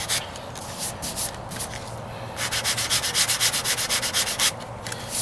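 Sandpaper rubs by hand over Bondo filler on a 1998 Ford Ranger wheel arch, close and alone, first in a few uneven passes and then in a quick, steady run of back-and-forth strokes.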